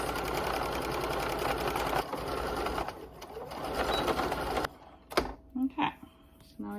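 A sewing machine stitches tablecloth fabric in a close, fast mechanical whir for several seconds, stops, then gives a few short bursts, with a voice speaking near the end.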